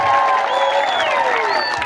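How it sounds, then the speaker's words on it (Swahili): Applause from a church congregation during a Swahili sermon: a dense, steady wash of clapping that fills the whole moment, with a tonal musical or vocal line running beneath it. "Pe Bwana makofi ya juu katika jina la Yesu."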